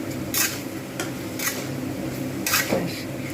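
Ground chili, turmeric, salt and homemade coriander-cumin powder being stirred and fried in a pan for a dhaba-style soyabean curry, with a spatula scraping the pan in repeated short strokes over a low sizzle.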